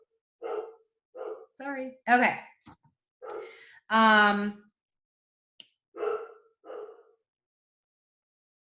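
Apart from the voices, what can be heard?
dogs barking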